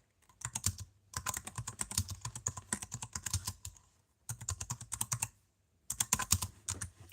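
Someone types on a computer keyboard in quick, close bursts of clattering keystrokes separated by short pauses.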